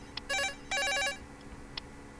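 A mobile phone rings in the video game Cafe Rouge, two bright electronic ringtone bursts, loud and close, with quiet room tone around them.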